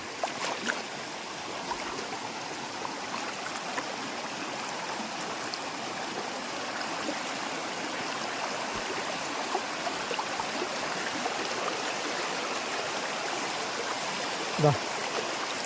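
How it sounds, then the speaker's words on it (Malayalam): A small stream runs down from higher ground into a lake near Chalakudy, giving a steady, even wash of flowing water throughout, with a brief knock near the end. "അവിടെ നിന്ന് മുകളിൽ നിന്നൊരു തോട് ഇങ്ങനെ ഇതിലേക്ക് ഒഴുകി വരുന്നുണ്ട് കേട്ടോ"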